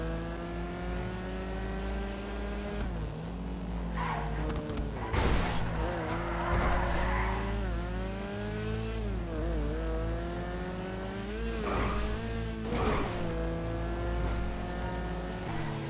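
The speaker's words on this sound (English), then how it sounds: "We've got to drive this car down into the city." A car driven through the city in the video game GTA Online, its engine droning steadily and revving up and down with bursts of skids or impacts, loud and continuous throughout.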